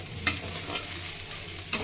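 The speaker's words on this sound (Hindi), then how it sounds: "अब इसमें हम डालेंगे हल्दी, इतना ही डालेंगे ताकि अच्छा कलर आ जाए, हल्दी का टेस्ट ज़्यादा ना आए। अच्छे से मिक्स करेंगे," Turmeric being stirred into food frying in a pan: a low steady sizzle with two sharp, close scraping strokes of a utensil, brief and quiet, with no talking.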